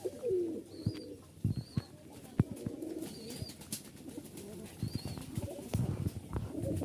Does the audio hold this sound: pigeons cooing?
yes